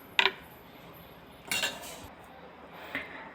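A spoon stirs ground almonds, dates and honey into carrot juice in a glass, giving three quiet, sparse clinks against the glass with soft scraping between them and no talk.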